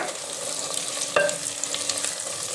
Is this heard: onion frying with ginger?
yes